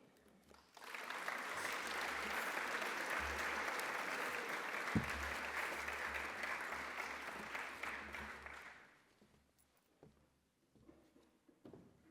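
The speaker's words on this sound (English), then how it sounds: "Let's give our candidates a round of applause as we get started." An audience at a speech competition claps in a sustained burst that stays even for several seconds, then fades to scattered claps and near silence.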